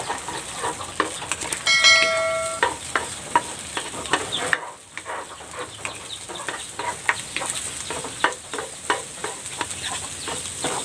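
Salted eggs frying and being stirred in a pan, a continuous close sizzle with frequent rhythmic scraping taps, a short ringing chime early on and a brief lull midway.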